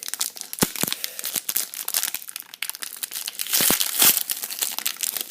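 An Upper Deck hockey card pack wrapper is torn open, with close, crackling crinkles and rips of thin foil coming in quick bursts, louder toward the end.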